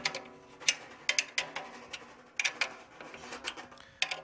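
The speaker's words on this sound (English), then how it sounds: "You can hear the whole drum tuning up as we go." A PDP M5 maple drum being tuned with a drum key, producing soft irregular ticking and ratcheting clicks in quick clusters, faint and close, with no talking.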